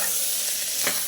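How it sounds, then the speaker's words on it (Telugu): Potato pieces sizzle steadily in oil in a pan over a medium flame, with a brief scrape of stirring near the end. "ఇవన్నిటిని కూడా కొద్దిగా వేపుకోవాలి"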